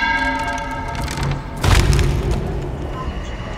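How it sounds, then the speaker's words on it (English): A bell rings in a Halo Slayer match on Xbox Series X, its steady, layered tone sustained throughout, with a deep boom thudding in about halfway before fading under continued game noise. "I heard a bell."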